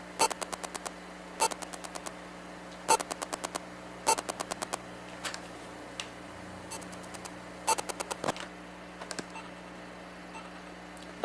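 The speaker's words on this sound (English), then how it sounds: "That is the sound of the LED data passing as electromagnetic fields into the amplifier." Activity LED data is picked up as electromagnetic fields and amplified, giving faint, buzzy clusters of rapid ticking pulses that repeat in irregular bursts over a steady electrical hum, with no talking.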